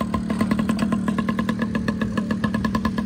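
A motorcycle engine runs at a steady idle close by, with an even, rapid thumping beat and mechanical clatter throughout.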